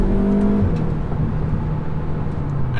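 A 2-litre SEAT Leon Cupra hot hatch engine revs up and accelerates in third gear, a smooth steady whir rising in pitch, moderately loud and close.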